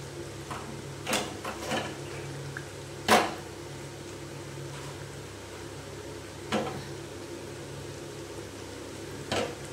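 Chicken curry cooked with orange juice and water simmers in a pan, giving a steady low bubbling hiss with a few faint kitchen clatters and clicks.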